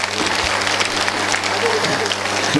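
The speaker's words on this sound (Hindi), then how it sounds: "तालियां बहुत तेज होने चाहिए।" Applause from a school farewell party audience, a steady wash of clapping held at an even level across the whole stretch, with a low hum beneath it.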